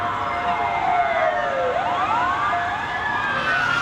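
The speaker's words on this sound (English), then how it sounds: "Someone is in danger. Come, let us follow those sirens." Emergency vehicle sirens wail in rising and falling sweeps, several tones overlapping, moderately loud against a steady background rumble of traffic.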